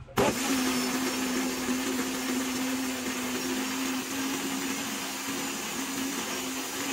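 An old kitchen blender runs steadily and loudly from its start, a constant motor whine with a steady hum holding the same pitch throughout, with no voices.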